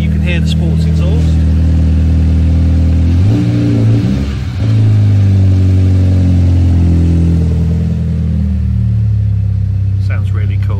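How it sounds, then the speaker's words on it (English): Turbocharged grey 2015 MINI Cooper S three-door with a sports exhaust, idling with a deep rumble and then blipped for a couple of revs before settling back, heard close up with some talk over it. "hopefully you can hear the sports exhaust."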